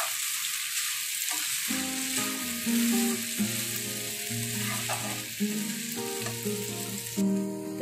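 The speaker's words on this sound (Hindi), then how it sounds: "अब इसमें हम ये नूडल्स डाल देंगे, अच्छे से चला देंगे।" Chow mein noodles stir-frying with mixed sauces over a medium flame, giving a constant loud sizzle with intermittent stirring, under steady background music.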